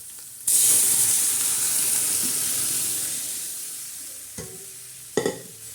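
Cooked moong and toor dal tipped into a hot tadka of garlic and curry leaves, bursting into a loud, sustained sizzle that slowly fades, followed by a couple of stirring clinks near the end.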